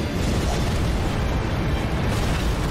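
Lava spray erupting in a modded Elden Ring, a continuous loud, rumbling roar with a dense crackling hiss, steady and close throughout with no talk.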